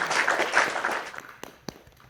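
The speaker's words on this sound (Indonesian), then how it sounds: "Tepuk tangan dulu dong untuk kita semua." Applause from a small audience after a talk, a brief patter of clapping that fades over two seconds, ending in a few isolated claps.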